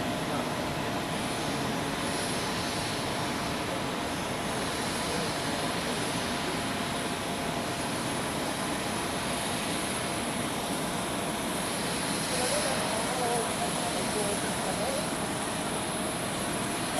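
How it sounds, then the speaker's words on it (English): A long-haul airliner bound for Cancun lines up on runway 16 at Zurich Airport, its jet engines a steady, loud rumble and hiss heard from a spotting position, continuous and unbroken. "the Cancun flight is lining up on the runway 16"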